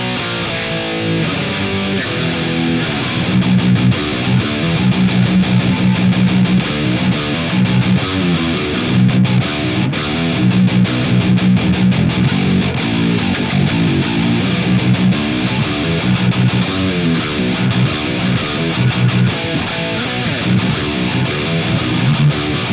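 Heavily distorted electric guitar through a Bias FX 2 Pro metal preset, running an Insane 5153 amp with Greenback 25 cabinet, reverb, delay and compression, plays dense chugging riffs continuously at a loud, steady level without a break.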